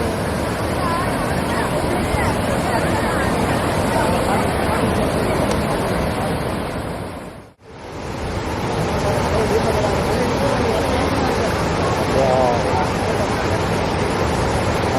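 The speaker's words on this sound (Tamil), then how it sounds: "தண்ணி நல்லா ஃபோர்ஸாக போயிட்டுருக்கு." Water rushing forcefully from Veedur Dam near Pondicherry into the Sankarabarani river, a loud, steady roar of flow with a brief dropout midway and crowd babble mixed in.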